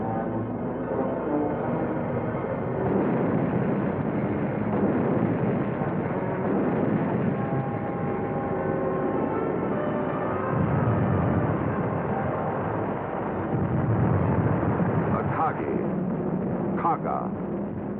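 Heavy, rumbling explosions from carrier dive bombers off the Hornet, Enterprise and Yorktown attacking ships at Midway roll on continuously, a dense, muffled barrage of blasts and booms throughout.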